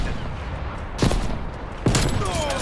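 Two sharp, loud turret bursts in Call of Duty Cold War, the first around one second in and a stronger one near the end, over a steady low battle din.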